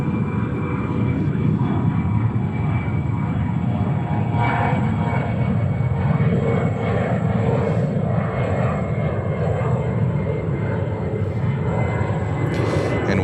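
A Boeing 747 jet roars steadily at JFK airport, a loud, continuous engine rumble lasting the whole stretch with no break or fade.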